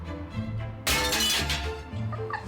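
The glass of a framed picture smashes as it is thrown into a skip at a rubbish dump, one sudden loud crash with scattering shards, preceded and followed by people talking nearby.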